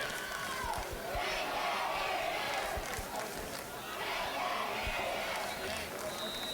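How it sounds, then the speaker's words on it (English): A high school football crowd at a North Stanly vs. South Stanly game roars steadily as both fan sections try to out-cheer each other, with a continuous dense wash of shouting voices and scattered claps under commentary. "I can see that the two fan bases are having a cheering war at the moment."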